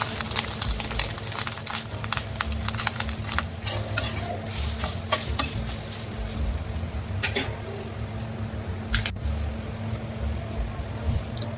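Grated coconut frying in a spoonful of ghee on a tawa for suji kakara pitha, a steady sizzling hiss with scraping stirs and a few sharp clicks throughout.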